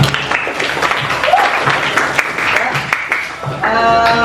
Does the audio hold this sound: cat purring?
no